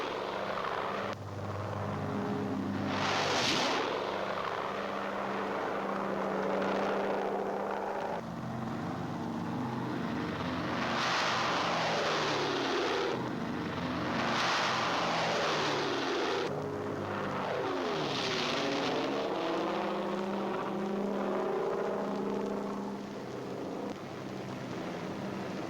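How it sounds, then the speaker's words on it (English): C-47 troop carrier aircraft drone in flight over the English Channel, a steady loud rumble of piston engines with rising and fading swells as planes pass, with no speech. "Troop carrier aircraft cross the channel."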